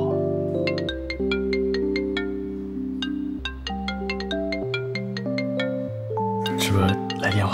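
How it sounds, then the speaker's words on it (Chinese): A mobile phone rings with an incoming call, playing a loud, clear melodic ringtone with repeating electronic notes close by, while a voice speaks over the end. "是不是来电话要不要接一下？"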